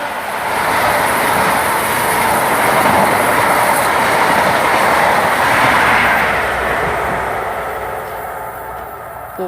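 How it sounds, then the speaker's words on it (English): A Penzance to Paddington HST passenger train, with a power car on the rear, roars through Starcross station at speed, a loud sustained rumble and rail noise that swells and fades slightly over about nine seconds with no talk. "passing through now is a Penzance Paddington"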